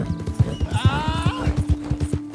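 A horse trots in Red Dead Redemption 2, its hooves clip-clopping in a steady close rhythm, while a loud whinny rises over the hoofbeats midway.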